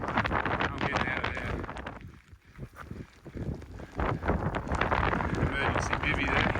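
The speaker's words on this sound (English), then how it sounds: "the wind's picking up a bit too, which isn't ideal" Strong wind gusting on an exposed mountain ridge near Mt Stirling in the Victorian high country, roaring broadband buffeting that dips briefly then surges back, loud and close against the microphone.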